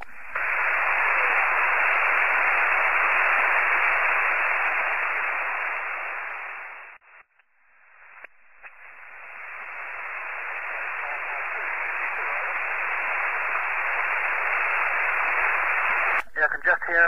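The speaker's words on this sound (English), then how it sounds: "I can just hear him down in the noise there, Brian." Loud, band-limited static hiss from a 144 MHz amateur radio link across about 3400 km holds steadily, with a very weak signal buried in it. The hiss briefly drops out midway and ends with a few sharp crackles.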